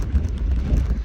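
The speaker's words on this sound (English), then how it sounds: "Oh, it's windy. It is windy." Gusty wind buffets the microphone on a hilltop alpine coaster in Scotland, a loud low rumbling roar that surges and dips throughout.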